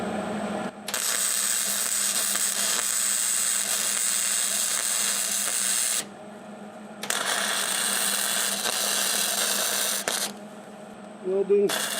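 Welding on a metal rim of a Kubota L3301 tractor with a new welder, long loud buzzing crackle bursts of several seconds each, separated by short quiet pauses, and a brief voice at the very end.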